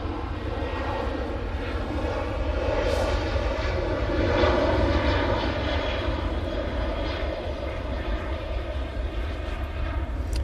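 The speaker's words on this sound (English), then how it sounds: "737-800 now on the roll to Orid." At Manchester Airport, a TUI Boeing 737-800 in plain livery rolls for takeoff toward Orid, its jet engines giving a steady, broad roar that swells slightly midway and holds at moderate distance.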